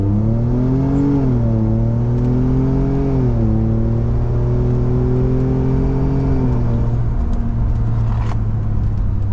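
A Ford F-150 EcoBoost with an AWE exhaust and SPD resonator, heard from inside the cab during a launch, holds a loud steady drone whose pitch rises and steps through gear shifts, then settles at a lower hum.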